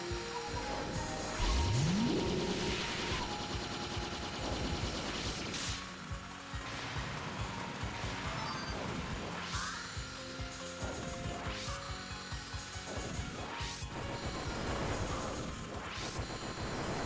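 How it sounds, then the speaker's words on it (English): Explosions and bursts in a Touhou bullet-hell video game, a rapid jumble of crashes, whacks and mechanical clatter with a rising sweep near the start, loud and dense over busy game music. "I'm getting a little scared of explosions."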